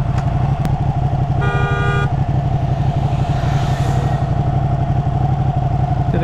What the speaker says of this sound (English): Did the guy behind me just honk?